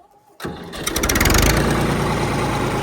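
TAFE 45 DI tractor diesel engine starting: a short quiet moment, then the starter cranks and the engine catches into a loud, rough, steady idle close by, with no talking.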